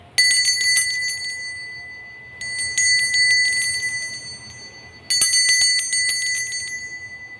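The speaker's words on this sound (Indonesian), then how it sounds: "kita akan memulai dengan ditandai lonceng berbunyi" A small bell rings in three bright, rapid trills separated by short pauses, each ring clear and close and fading slightly as it goes, with no talking over it.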